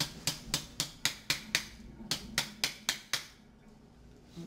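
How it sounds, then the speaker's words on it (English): Metalsmith's hammer striking metal at a workbench while forming an anti-clasp, about a dozen sharp, close, evenly paced blows that stop near the end. "I'm going to hammer it there to the air pocket, working around 1 o'clock"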